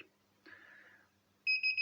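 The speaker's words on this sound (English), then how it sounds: "it has an alarm which is warning me" A DC bench power supply sounds its warning alarm after cutting off the current: a soft electronic chirp, then a louder steady two-tone beep, heard close and alone.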